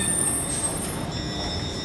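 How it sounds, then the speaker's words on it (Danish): A metro train rumbles steadily with a high, thin whine of wheels or motors running above, continuous and fairly close, with no voices. "Dejligt tom metro"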